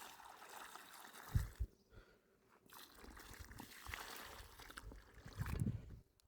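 Water is poured by hand onto young plants in a farm field in a few separate splashing trickles, faint and close, with short pauses and gurgling between pours.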